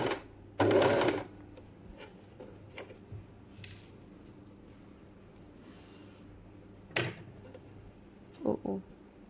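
A sewing machine stitches an accordion pocket in short close bursts: one loud whirring run near the start, then brief stitching spurts later with small clicks and handling noises between them, and no talking.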